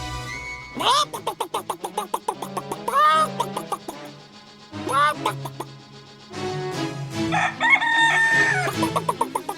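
A rooster crows repeatedly amid clucking and a busy musical backing in a 1950 animated cartoon, with the calls rising and falling in long strained bursts.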